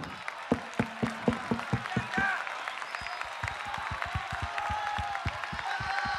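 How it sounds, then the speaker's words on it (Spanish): Audience clapping at a rap battle, a burst of rhythmic handclaps and applause under a speaking voice, trailing into scattered claps as talk continues. "No, me gustan los aplausos."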